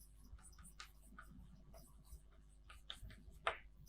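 Faint scratching strokes of writing out a physics equation on a board, short irregular scribbles and taps in a quiet room.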